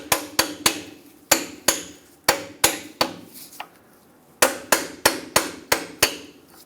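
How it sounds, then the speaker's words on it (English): Sharp metallic hammer blows on a tie rod adjusting sleeve of a 2008-2010 Ford F250 Super Duty ring out in quick bursts, each strike decaying briefly, with a short pause midway before another rapid series. "take a hammer to this, and just make sure it's actually broken free"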